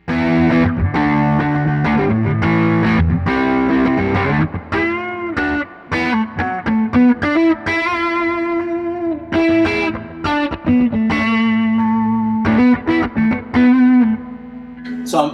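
A 1957 Gibson Les Paul Custom on its neck pickup plays through a Vibrolux amp with a little reverb and a dry Concord amp, giving loud, slightly driven single notes and chords in a bluesy phrase with no talking.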